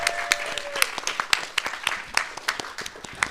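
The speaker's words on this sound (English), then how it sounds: "One more round of applause." An audience at a live storytelling show claps after a reading, a crowd of sharp hand claps rising and thinning with a faint voice underneath.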